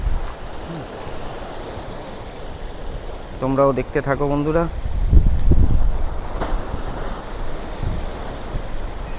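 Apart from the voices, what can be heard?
rough sea waves and strong wind from cyclone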